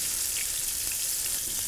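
Beef steaks fry in hot lard with a dense, steady sizzle and faint crackles and pops, loud and close, with no talking.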